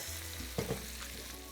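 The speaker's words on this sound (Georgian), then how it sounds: "ყაბაყი დაიბრაცა, ოდნავ უკვე დარბილდა კარგად." Zucchini pieces softening as they fry in a pan, giving a low, steady sizzle with a couple of brief utensil clinks in the middle and no talking.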